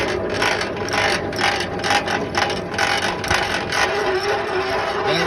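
Trailer landing gear cranked up by hand, a close, loud and continuous ratcheting of gears and pawl with a steady rhythmic clatter, the mechanism freshly lubricated while double trailers are hooked up.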